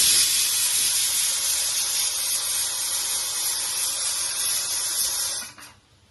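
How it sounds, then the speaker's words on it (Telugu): A pressure cooker holding kandi pappu and bottle gourd lets off a loud, steady rush of hissing steam that fades out abruptly near the end. "కుక్కర్ 2 విజిల్ వస్తున్నాయి"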